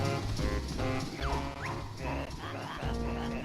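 Dinosaur enemy in Banjo-Tooie barking repeatedly in short yelping bursts, mixed over busy game music and effects at moderate level.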